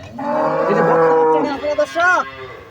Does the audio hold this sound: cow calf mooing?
yes